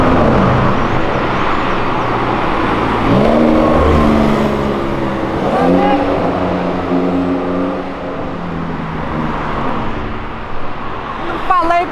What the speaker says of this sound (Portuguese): a gente ouve umas reduzidas maravilhosas como essa